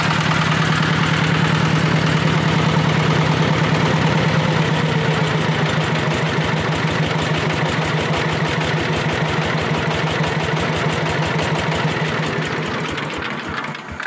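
A walk-behind motor tractor engine idles in a steady, loud, close rhythmic putter with even low pulsing throughout, fading slightly at the very end.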